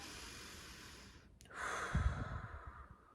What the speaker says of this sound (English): And just big deep breath